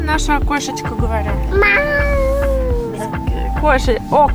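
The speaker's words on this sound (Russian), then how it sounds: "О, кошечка, мяу." A cat meows several times at close range at a guest complex, with drawn-out, wavering cries in the middle, while people talk nearby.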